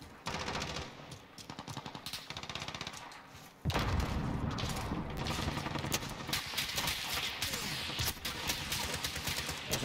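Rapid, dense gunfire from a gold .357 revolver in Call of Duty Modern Warfare, continuous and loud for the whole stretch, growing heavier partway through with overlapping shots.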